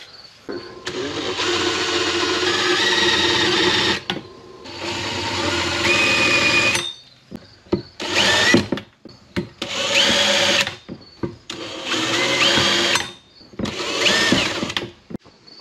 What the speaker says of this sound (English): pre-drill a couple holes.